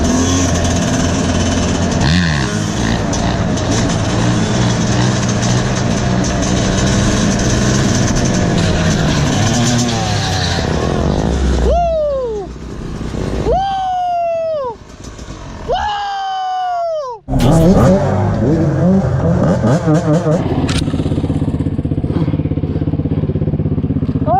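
A dirt bike engine runs loud and close, then gives several sharp revs that rise and fall in quick succession before roaring steadily again, with voices heard over it.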